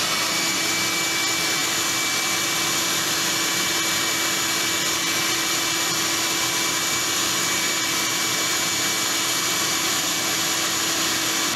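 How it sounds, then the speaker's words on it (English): A shop vac runs steadily with a Wale Tale silica dust collector attached while cutting thinset mortar, giving a loud, constant broadband whine and roar with a faint high tone, unbroken throughout. "Turn on the shop vac."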